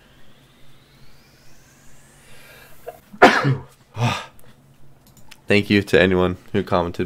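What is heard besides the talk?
sneeze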